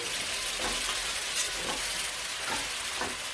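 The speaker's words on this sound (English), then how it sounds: "my chicken is going to go into the oil, okay? And you stir it a bit." Chicken fries in hot oil while being stirred, giving a loud, steady, close sizzle with a few soft swishing stirs rising through the hiss.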